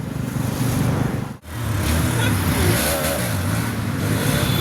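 A motorbike engine drones loudly and steadily during a street stunt show, with a brief dropout before it picks up again and a rising revving whine partway through. Crowd voices and talk sit underneath.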